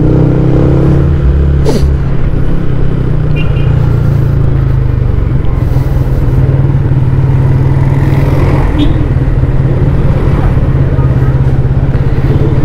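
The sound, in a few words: motorcycle engine in traffic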